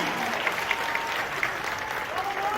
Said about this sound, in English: this overwhelming wave of applause and laughter and cheers